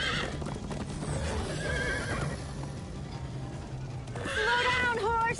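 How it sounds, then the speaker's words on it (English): A horse in the Minecraft Story Mode video game whinnies near the start and again loudly near the end, with clip-clopping hooves and game voices talking over a busy background. "Slow down, horse!"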